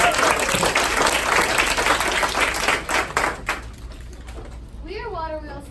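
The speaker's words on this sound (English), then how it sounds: "If you'll give them a round of applause." Audience applause after a sixth-grade student team from the Water Wheels Foundation is introduced at a school shark-tank pitch event, dense and loud for about three seconds before thinning into scattered claps, then a voice begins.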